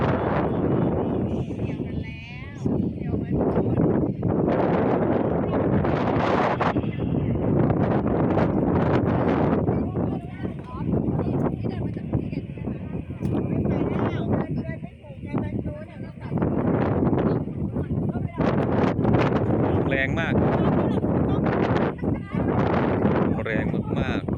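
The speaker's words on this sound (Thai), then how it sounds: "ไม่ใช่ลมร้อนนะครับเป็นลมที่เย็นสบาย" Cool morning wind blowing outdoors during a nature walk, a steady broadband rush buffeting the microphone throughout with someone talking over it.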